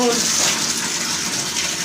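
Water gushes out during hand-washing of clothes at home, a loud, steady rushing pour like a tub emptying, lasting a couple of seconds.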